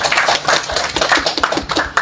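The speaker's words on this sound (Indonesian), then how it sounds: "Tepuk tangan, tepuk tangan." Audience clapping after a talk at the Indonesian mosque in Tokyo following Friday prayers, a dense, steady patter of many hands close by, continuous for the full stretch with uneven peaks.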